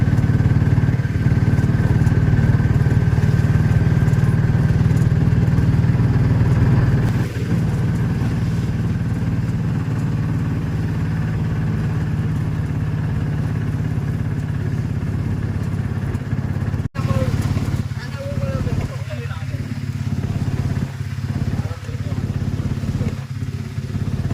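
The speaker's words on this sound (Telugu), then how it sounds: "మనం అందుకే ఆటోతో వెళ్తున్నాము" Auto rickshaw engine droning steadily while riding through rain, a loud continuous low rumble with rattling that thins out near the end as voices speak over it.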